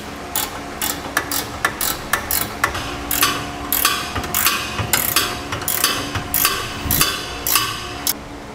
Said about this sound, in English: now we'll tighten down all of our bolts securely that hold our center section to our